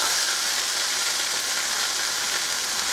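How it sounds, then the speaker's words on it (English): Onions frying in a pan for shepherd's pie, a steady, close sizzling crackle that stays constant and loud throughout. "we'll get this frying."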